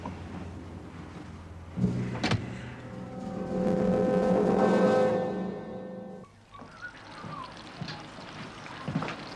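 A car engine rises and hums for several seconds as the vehicle is pulled round, swelling to a steady drone before cutting away to quieter ambience with scattered knocks.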